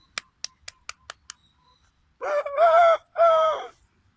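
After a run of six sharp, evenly spaced clicks, a rooster lets out a loud, close crow in two long drawn-out bursts, clear against an otherwise quiet background with no talking.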